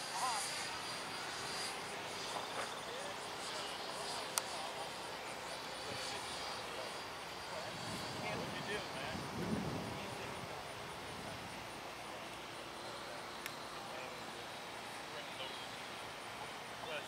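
A 90mm-fan model MiG-17 jet flies in to land, giving a faint, steady ducted-fan whoosh that swells briefly as it passes, with voices speaking in the background.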